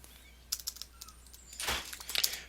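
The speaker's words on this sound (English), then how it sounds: "let me just type a few sentences here" Someone types a few sentences on a computer keyboard, producing a short run of light, close key clicks followed by a denser cluster of taps, fairly quiet.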